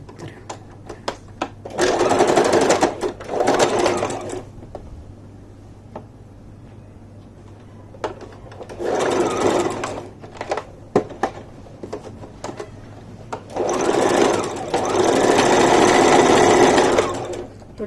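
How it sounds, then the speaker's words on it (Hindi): Sewing machine stitching a second seam along the joined pieces of a pant-cut palazzo trouser, running in three loud bursts of rapid mechanical whirring separated by quieter pauses, close up with no talk. "अब हम यहाँ से एक और सिलाई पूरे में लगा देते हैं,"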